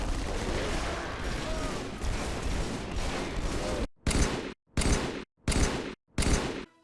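Battle rifle fire in a Halo game overhaul mod with Halo 2 Anniversary weapon sounds: sustained loud gunfire and battle noise, then four punchy evenly spaced bursts, each cut to silence between shots.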